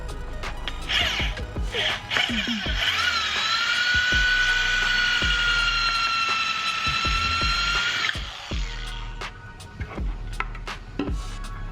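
A power drill whines steadily for several seconds, its pitch wavering slightly, between shorter bursts and clunks of tool handling close by, drilling holes while building a gaming chair from a car seat.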